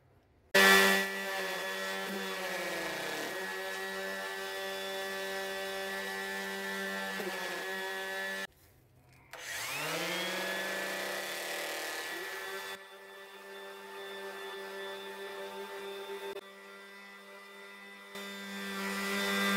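A power sander with a sanding disc whirs steadily with a harmonic hum on the neck of a 100-year-old mandolin, cutting out briefly twice and restarting, its pitch shifting slightly under load.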